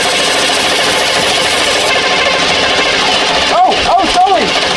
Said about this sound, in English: crank it over